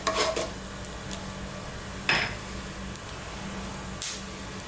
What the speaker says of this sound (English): we just want to toss these around in this oil just for a few seconds